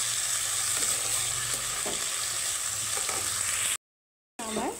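Rajma kidney beans sizzle steadily in hot oil while a spoon stirs and scrapes them in a pan, with a few soft knocks, then the sound cuts out briefly before resuming.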